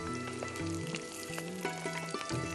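Salad vegetables deep frying until lightly pink in hot oil, a steady, close, dense sizzle and crackle with no talk.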